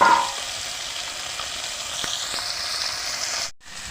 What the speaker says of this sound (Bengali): খুব সুন্দরভাবে ভেজে নিতে হবে মাছগুলো